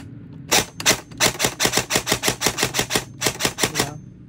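A Novritsch SSR77 A1 airsoft rifle fires on full auto, a rapid, evenly spaced burst of sharp clacking shots, about fifteen in a row with brief pauses, close and loud with no talking.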